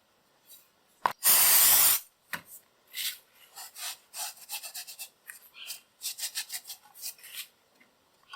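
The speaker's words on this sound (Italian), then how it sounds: "Adesso non mi resta che lucidarlo con un altro po' di F5" An old charcoal clothes iron is sprayed once with F5 in a loud hiss, followed by a series of short, close rubbing and polishing strokes in an uneven rhythm.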